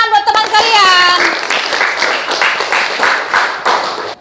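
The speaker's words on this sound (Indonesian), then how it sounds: "Kasih dulu tepuk tangan buat teman kalian." Classroom students clapping together for a classmate, a burst of uneven group clapping that follows a short sung or spoken voice at the start, moderately loud and close, with some voices mixed in.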